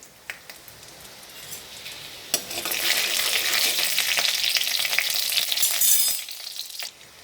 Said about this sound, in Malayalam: ഇനി ഇതിലേക്ക് കുറച്ച് ഉഴുന്ന് പരിപ്പ് ചേർത്ത് കൊടുക്കാം.